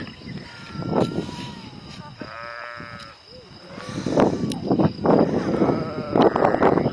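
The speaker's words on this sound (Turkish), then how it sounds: "Yaklaşık 1500 koyun var" A flock of about 1500 sheep bleat at intervals on a highland pasture in Bitlis, some near and loud, others farther off, with rustling and outdoor noise between the calls.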